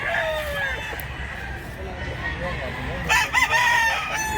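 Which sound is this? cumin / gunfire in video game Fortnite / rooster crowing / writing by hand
rooster crowing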